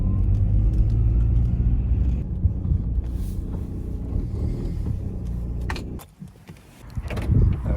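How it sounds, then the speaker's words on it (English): A car being moved around a warehouse car park, heard as a steady low engine rumble and idle that dips briefly near the end before picking up again, with no talk. "I'm moving my car."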